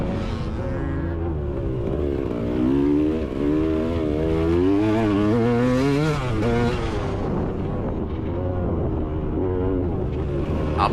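Motocross dirt bikes race around a track, engines revving and shifting pitch as they accelerate and ease off, a loud, close, continuous two-stroke buzz.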